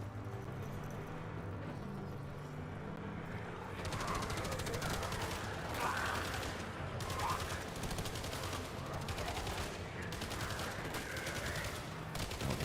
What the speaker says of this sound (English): Spinning up the turret.